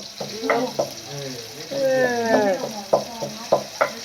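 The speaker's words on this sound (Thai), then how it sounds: "นี่ละทอดแบบนี้นี่ละ" Pork frying in a pan on an electric stove, a steady sizzle running under a voice talking throughout, with a few brief clanks of stirring.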